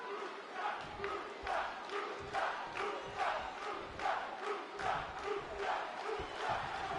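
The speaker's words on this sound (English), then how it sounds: "Now they're chanting Lucha." A WWE 2K22 arena crowd chanting Lucha in a rhythmic, repeated chant of roughly a dozen pulses, loud and steady, with no other voices over it.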